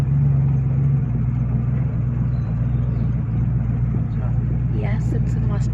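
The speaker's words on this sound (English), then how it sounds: "Yes, it's a Mustang, 1968 model." A restored red 1968 Ford Mustang convertible driving on city roads, its engine a steady low rumble heard from inside the open car, with wind noise, and a voice talking faintly near the end.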